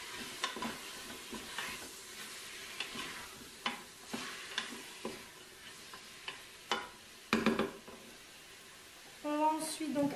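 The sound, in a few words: stirring onion and garlic sizzling in a pan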